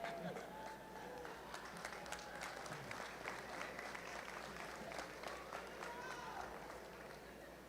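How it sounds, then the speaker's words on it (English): Steady applause from a large crowd fills a university commencement ceremony for the class of 2024, a dense, even patter of clapping heard from a distance throughout. "How about one more round of applause for the class of 2024?"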